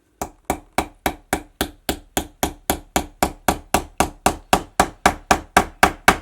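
A hammer strikes a pop rivet set into leather, close and loud, in a steady run of about twenty evenly spaced sharp knocks, with no talking.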